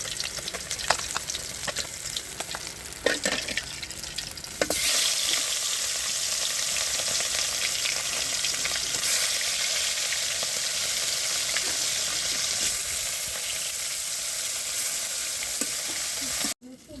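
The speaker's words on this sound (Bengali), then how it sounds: "তুলে নিয়ে বাকি মাছগুলো ভেজে নেব" Small mishali fish fry in hot oil in a pan, giving a steady, dense sizzle that holds for the whole stretch, with a few clatters of stirring near the start.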